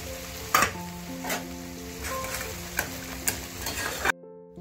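Raisins and cashews dropped into tomato chutney sizzling in a pan, a steady frying crackle broken by a few sharp stirring clinks and scrapes, then cutting off abruptly.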